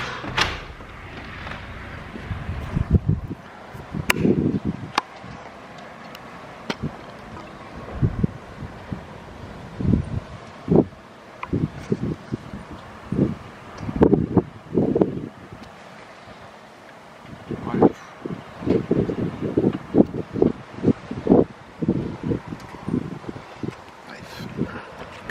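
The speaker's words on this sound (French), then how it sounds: "Regardez-moi ce vent de ouf." Strong wind gusts buffet the microphone in rough, uneven roaring bursts that come and go, with occasional voices in between.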